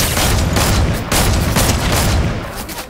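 Dense, sustained volley of gunfire in the Fortnite battle royale video game, a loud continuous barrage of overlapping shots with booming low thumps, running the whole stretch with only a brief dip.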